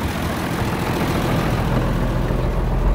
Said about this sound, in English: This tractor started beautifully.